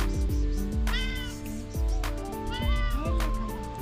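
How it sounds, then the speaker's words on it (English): A hungry stray cat meows insistently up close in rural Greece, giving several rising and falling cries in quick succession over steady background noise, with a person speaking softly in between. "Wow, a nice cat."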